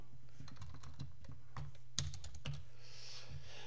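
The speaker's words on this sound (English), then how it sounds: "I'm just going to type in ESX top." A computer keyboard as a short command is typed, a close, crisp series of individual key clicks in an uneven rhythm, ending in a final harder keystroke, with no talking.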